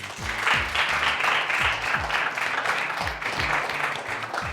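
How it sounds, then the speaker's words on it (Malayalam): An audience applauds a trio on a Christian music show stage, a dense, continuous patter of clapping over a rhythmic low musical beat. "അപ്പോൾ നല്ലൊരു കൈയടി ആവാം അവർക്ക് വേണ്ടിയിട്ട് പ്ലീസ്"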